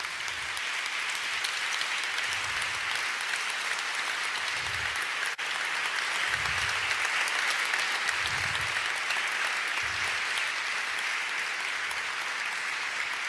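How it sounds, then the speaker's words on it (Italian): An audience at an award ceremony for the Terzani Prize applauds in a dense, steady wash of clapping that fills the whole stretch at even loudness, with soft low thumps underneath. "di chiedervi un applauso fortissimo per tutti i nostri collaboratori, per i tecnici straordinari"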